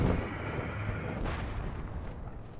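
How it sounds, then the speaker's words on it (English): A cannon booms in the Wind Temple area of the video game The Legend of Zelda: Tears of the Kingdom, a deep rumbling blast that keeps rolling at a low, heavy level with no voices over it. "No, that's a cannon."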